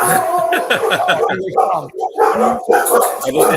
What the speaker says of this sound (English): I think the dogs agree with you.